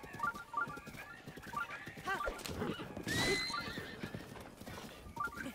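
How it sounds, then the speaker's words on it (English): In Breath of the Wild, a hurt horse lets out a loud, shrill whinny partway through, amid hoof clops and scattered combat noise. "Well, I accidentally hurt the horse, which I don't like,"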